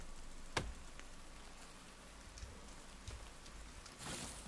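Steady rain patters down in the survival game The Forest, a soft continuous hiss with scattered ticking drops and a brief sharper splash, faint and with no voices.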